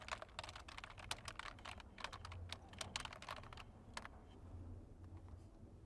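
Typing on a computer keyboard while entering business registration details online, with quick irregular bursts of sharp close key clicks over a low background hum.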